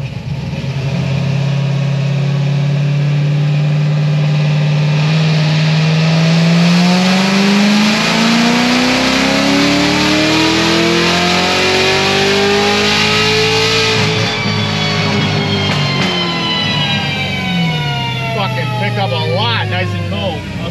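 A 1000 HP Corvette C7 Z06 running E-blend fuel pulls hard on a dyno, its loud engine climbing steadily in pitch for a long rising sweep, then dropping off as it winds down, very close and continuous.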